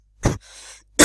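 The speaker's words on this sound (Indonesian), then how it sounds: "saya agak batuk" A man gives a short, sharp cough, then a soft breathy rasp follows before a second loud cough cuts in at the end, close to the microphone and with no speech.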